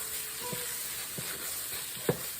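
A pan of pumpkin puree sauce with sausage sizzles gently as a utensil stirs it, with a few soft, scattered scrapes and clicks over the steady frying hiss.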